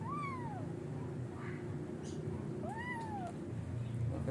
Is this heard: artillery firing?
no